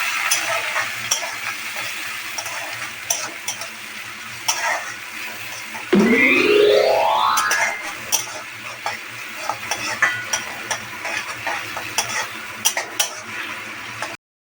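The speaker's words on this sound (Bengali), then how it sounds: "পেঁয়াজ কুচিগুলো ছেড়ে দিচ্ছি, পেঁয়াজগুলোকে হালকা হালকা লাল হবে যখন, তখন হালকা হালকা লাল করে ভেজে দেবো।" Chopped onions hit hot oil with a sudden loud hiss and keep sizzling, while a spoon clinks and scrapes against the pan in frequent close stirring strokes.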